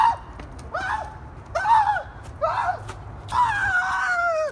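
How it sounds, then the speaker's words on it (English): A person lets out a series of shrill, wavering screams, four short squealing bursts and then a longer sustained one, loud and close in a quiet indoor room. "I'm over here screaming like a maniac."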